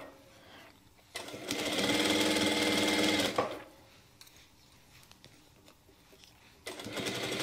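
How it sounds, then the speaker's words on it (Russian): Sewing machine stitching the lining of a warm lined jacket, running in two loud steady bursts, one long run of about two seconds and a shorter one at the end, with quiet pauses between. "После того, как мы сошьем, я его"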